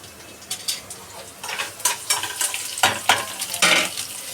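Ginger and green chillies fry in a pan, a soft continuous sizzle broken by irregular scraping and stirring strokes and light clinks of a utensil against the pan, close and moderately loud.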